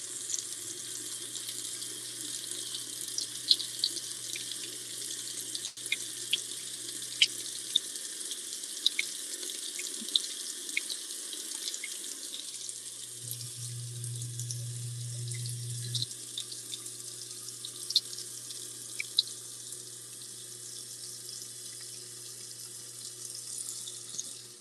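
Water runs steadily into a GE GTW220ACW0WW top-load washing machine as it fills for a rinse, a continuous hiss with small drips and a low hum that swells midway, heard alone without talk.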